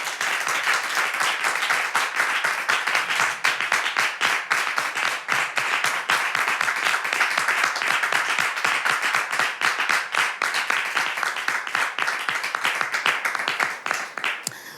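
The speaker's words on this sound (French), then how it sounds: "On l'applaudit." A studio audience claps in a dense, sustained round of applause, many hands patting steadily at an even volume for about fifteen seconds before tapering slightly.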